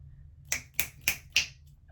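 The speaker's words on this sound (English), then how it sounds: "I don't know why I'm clapping like that" Four sharp, evenly spaced hand claps ring out close and crisp over a quiet background, followed by silence.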